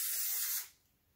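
A texture spray is misted lightly through hair in one steady, close hiss lasting about half a second, then cutting off into near silence.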